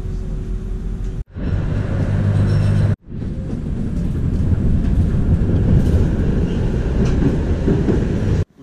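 A tram in Warsaw rolls steadily along rails with a continuous low rumble and rattling, briefly cut by two short gaps, no voices.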